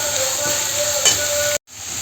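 Chopped onion sautéing in a pan for an eggplant bharit gives a steady, close hiss with a brief scraping stir near the middle. The sound cuts out abruptly for a moment before resuming.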